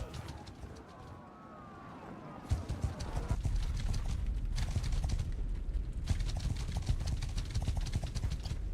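Horses of cavalry and horse archers in Mount & Blade II, clip-clopping hooves building into a dense rhythmic trot after a quieter opening with birdsong, loud and continuous; a voice talks briefly.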